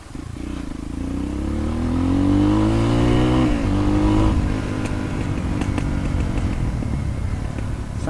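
A modified dirt bike engine revs up loudly and close, the pitch climbing and then dropping back to a rough, misfiring idle with crackles and pops.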